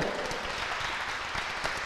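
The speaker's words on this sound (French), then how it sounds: "on t'applaudit" Audience applause for a volunteer stepping onto stage at a talk on pitching, a dense steady wash of clapping from a crowd, moderately distant and even throughout.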